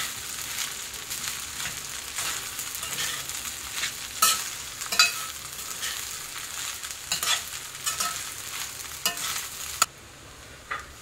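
Sabudana being stirred and turned in ghee in a pan, a steady soft sizzle with scraping, spoon-on-pan clinks and occasional louder knocks, close and alone with no talk.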